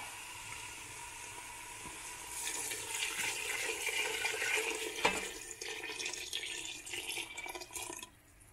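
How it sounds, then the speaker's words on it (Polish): Broth pours into a pot of sautéed mushrooms for mushroom soup, a steady soft splashing and hissing rush that builds and runs for several seconds, faint and alone with no talk. "teraz wleję sobie nasz bulion."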